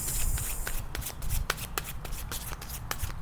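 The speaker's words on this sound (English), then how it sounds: "I always shuffle my cards, clear the energy before we start." A deck of tarot cards is shuffled by hand up close, giving quick, soft riffling flutters and crisp snaps in a steady, repeated rhythm.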